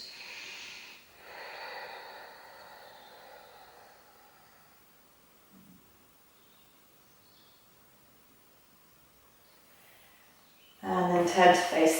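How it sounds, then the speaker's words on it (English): During a supine yoga twist, soft airy breaths come in and out close by, followed by a long quiet pause and then a sudden louder rustling burst. "Take a breath in this twist."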